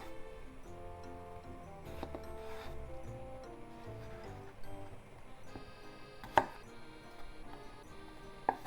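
A knife chops through food on a cutting board while preparing somen noodles with pork topping, giving a few scattered sharp knocks over a steady background of music.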